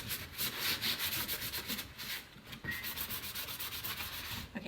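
Sandpaper rubbing back and forth over a painted finish to distress it, a quick rhythmic scratching of many short strokes with one brief pause, close and clear, no talk.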